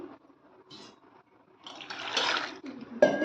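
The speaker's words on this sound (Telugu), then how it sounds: "సిగర్ అంతా కడుగుదామండి" Fresh tamarind leaves being washed in water in a kitchen, with faint light splashing that swells into a louder swish and slosh of water near the end.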